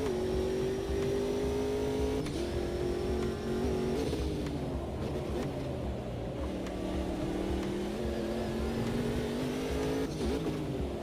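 A race car engine in a sim racing game drones steadily throughout, its pitch rising and dipping with throttle changes and gear shifts, loud and continuous with no break.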